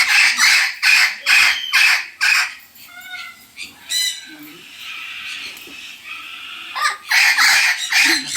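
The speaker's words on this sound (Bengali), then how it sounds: "মাথা খারাপ করে দেবার মতো আওয়াজের পাখিগুলো আছে মাঝখানের খাঁচাগুলোয়।" Caged birds at Ramoji Film City squawk loudly in harsh, rapid bursts close by, pausing briefly for quieter chirps and a voice before the raucous calls return.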